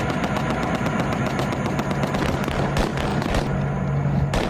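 Combat footage of gunfire with grenade explosions, a dense, loud, continuous crackle of shots and blasts with sharp bursts standing out near the end, no voices.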